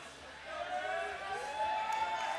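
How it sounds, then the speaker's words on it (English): Crowd at a USAPL powerlifting meet cheers a rookie lifter during a 217.5 kg deadlift attempt, with a grandmother among the spectators. Steady, moderately loud cheering and shouting from a mid-distance audience with some voices over it. "His grandma is in the crowd, and she is so cute cheering for him."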